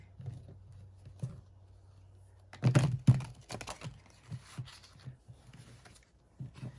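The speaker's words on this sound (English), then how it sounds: "Let's just give them all a shuffle. It's a very fat deck." A very thick tarot deck is shuffled by hand, giving a quiet rustle at first and then a louder burst of dense riffling card flutter and taps, followed by sparser soft card clicks.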